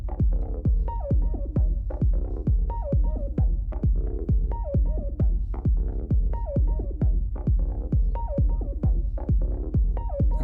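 Techno track without a master chain: steady four-on-the-floor kick drums thumping at a driving tempo over a deep rolling low-end rumble, with short tonal blips between beats, even and unbroken throughout.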